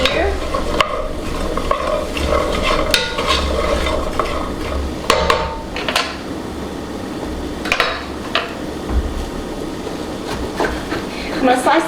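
Onions stirred in a pot for a vegan white chili, a steady scraping and gentle sizzle running throughout with a low constant hum beneath, close and moderately loud.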